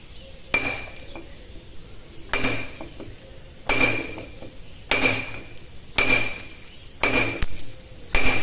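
A stonemason strikes a chisel with a hammer while scoring a line 3 mm from the edge to dress stone. Six or seven sharp metallic clinks land at a steady, unhurried pace, close and fairly loud, with quiet gaps between them.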